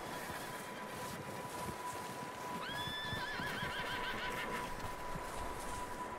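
A single horse whinnies at middle distance in a barn in Red Dead Redemption 2, a rising then wavering neigh, over a steady noisy background with a faint constant tone.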